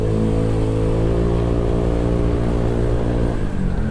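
Honda Vario 125 Gen2 scooter engine droning loudly while riding, a sustained, strong engine note that holds steady revs, then dips slightly near the end.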